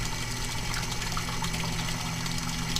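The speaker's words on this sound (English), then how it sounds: "the water pump driving this pipe flow" A water pump drives flow through a pipe, giving a steady, loud rushing and churning of liquid with a low mechanical hum underneath, continuous and unbroken throughout.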